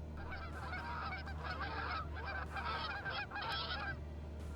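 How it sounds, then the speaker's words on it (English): A stream sound alert plays a goose honking, several loud nasal honks in quick bursts close up over a low steady hum. "I actually have a sound alert just for the Goose."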